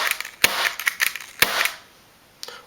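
A blank-firing pistol with a fixed slide and a silencer fitted lets off a few sharp, muffled cracks, spaced irregularly and heard close, with small clicks between them.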